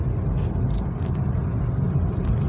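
A car engine, a three-cylinder, revs during a clutch plate check, a steady loud rumble with a few brief higher bursts, no speech over it.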